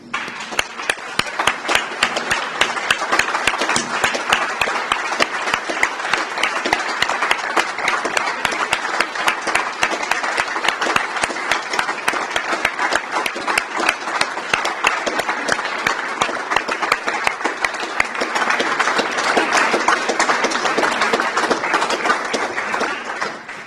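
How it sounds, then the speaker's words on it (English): A large standing audience applauds in solidarity with Ukraine, dense sustained clapping filling the hall evenly from start to finish. "I would like to invite you all to stand up and applaud as a symbolic gesture of solidarity and respect"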